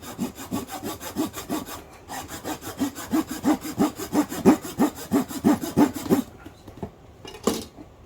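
A hand saw cuts through a piece of Douglas fir with steady back-and-forth strokes, about two or three per second, close and clear for roughly six seconds. The sawing then stops, followed by a couple of final rasps.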